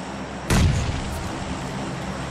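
A grenade goes off in PlayerUnknown's Battlegrounds, one sudden loud boom with a low rumbling tail that fades slowly over steady background game noise.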